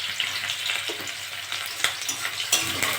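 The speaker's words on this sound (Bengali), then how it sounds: "দিয়ে একটু ভাজা ভাজা করে নেবো।" Onions and green chillies fry with five-spice (panch phoron) in a pan, giving a bright, steady sizzle close up, broken by a few sharp spatula scrapes and knocks as they are stirred.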